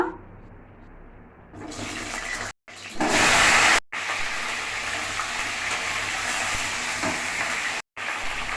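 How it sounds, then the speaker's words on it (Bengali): Pointed gourd (potol) slices hit hot oil in a wok and set off a loud, rushing sizzle that stays steady and close, with brief clatters as they are stirred. "কড়াইয়ে তেল দিয়ে দিয়েছি এইবারে পটলগুলো দিয়ে দেব ভাজা করার জন্য"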